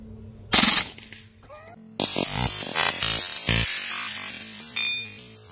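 A Hatsan Blitz PCP air rifle fires one sharp shot, then a longer loud rattling burst of rapid shots follows, close by with no talking.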